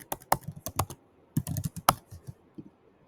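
Patient details being typed on a computer keyboard, close irregular clusters of key clicks with short pauses between bursts, no talk.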